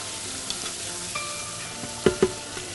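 Chicken wings and sliced liver fried in a pan and stirred, with a steady low sizzle under a few sharp scraping clacks of the utensil against the pan, close and moderately loud, no voices.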